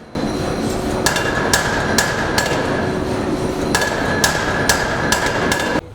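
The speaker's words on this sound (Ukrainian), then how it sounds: "Як працює молот, нам пояснюють кремезні чоловіки-ковалі" Heavy rhythmic blows of a power hammer in a blacksmith forge ring out over a steady loud mechanical drone, each strike a sharp metallic clang spaced about half a second apart.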